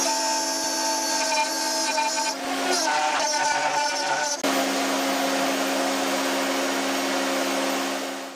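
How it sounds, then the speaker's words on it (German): A router table fitted with a 6 mm bit cuts a groove in beech wood: a loud, steady high motor whine that shifts pitch and tone as the cut loads and then continues evenly. "Hier am Frästisch habe ich mir jetzt einen 6 mm Fräser reingesetzt."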